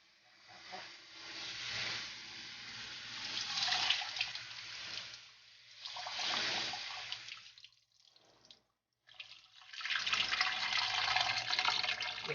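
Tap water runs and splashes steadily while potatoes, white or yellow, are washed, hissing and fluctuating in strength with a brief pause before resuming loudly.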